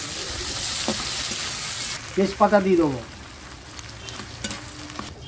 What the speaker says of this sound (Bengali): পেঁয়াজ দেবো। পেঁয়াজগুলো একটু ভেজে নিই।